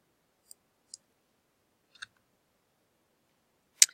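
A computer mouse clicks while the Alt key is held down on the keyboard: four isolated, crisp, quiet clicks spaced over a few seconds, the last slightly louder, in an otherwise silent room.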